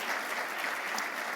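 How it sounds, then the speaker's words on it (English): A brief burst of steady applause from an audience at a business plenary breakfast, even and moderately distant throughout. "let's give him a round of applause"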